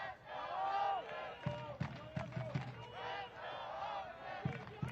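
Stadium crowd at an Oakland Roots SC soccer match against San Diego Loyal chanting in a steady rhythmic cadence, with repeated thumping beats punctuating the chant, sustained and moderately loud in the distance.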